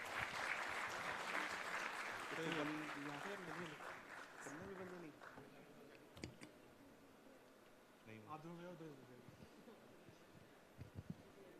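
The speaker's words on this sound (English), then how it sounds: "it deserves a louder round of applause" Conference audience applause at a TiECON business event fades out over the first few seconds, then someone speaks while a few scattered claps and clicks remain in a quieter hall.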